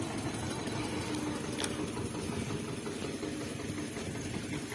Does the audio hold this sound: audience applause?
no